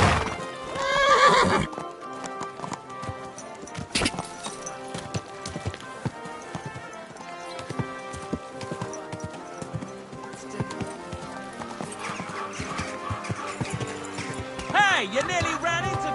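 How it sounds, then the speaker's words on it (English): Horse hooves clip-clop rhythmically in the video game Kingdom Come: Deliverance II, under a busy mix of music and game sounds, with a whinny near the start and voices speaking. "Your horse really trampled me!"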